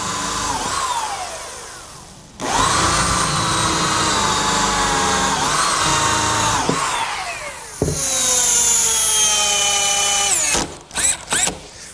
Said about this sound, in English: now for a couple screws down at the center brace